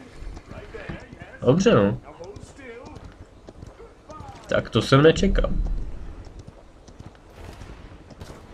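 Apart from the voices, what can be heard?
horse hooves galloping, Paladins video game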